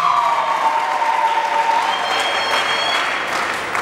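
Dense applause and shrill ululation fill a church during a pastor's wedding celebration for Jesus, a steady crowd roar with high trilling voices rising over the clapping throughout.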